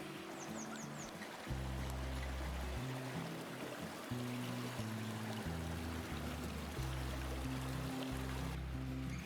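A mountain stream, Biała Woda, rushes through a rocky limestone gorge in the Pieniny, giving a steady, fairly close broadband wash of running water with no voices.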